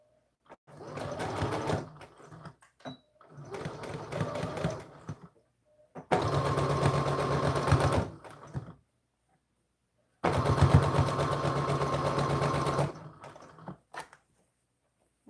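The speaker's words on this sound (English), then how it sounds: "we're going to do about a 1/4 inch seam, and we'll go forward and then reverse to tie it off" A sewing machine runs a quarter-inch seam forward and then in reverse, in four distinct bursts of fast whirring stitching separated by near-silent pauses, close and clear.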